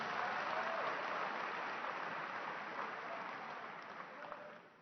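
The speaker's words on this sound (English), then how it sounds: "Let's give them a round of applause." A political event audience applauds for an electoral commission, a soft, even wash of clapping heard from a distance that slowly fades toward the end.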